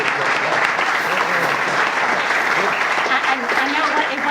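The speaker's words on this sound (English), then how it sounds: "please, round of applause for these guys." Steady, dense applause from an audience at the opening of the Jack A. Markell Trail, filling the whole moment at a constant level with no break.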